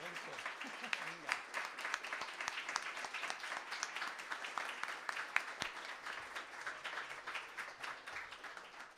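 A conference audience applauds presenters and organizers, dense, continuous clapping from many hands that fills the whole stretch at moderate, fairly distant volume, with no pause or voice rising clearly above it.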